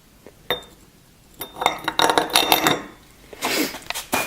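A metal go-kart rim half and spacers are handled, making sharp metallic clinks and clanks, a single knock and then a cluster of ringing taps and rattles, close and loud, with no talking.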